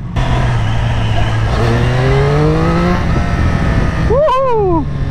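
Triumph Street Triple RS 765 (2023) motorcycle engine running steadily while riding, with a sustained drone that climbs in pitch through the gears, then a sharp rev rising and falling near the end.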